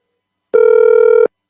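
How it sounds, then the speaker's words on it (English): A single electronic ring tone sounds on an outgoing phone call during a live radio show, one steady buzzing burst of under a second, loud and clear against silence. "Okay, it's ringing."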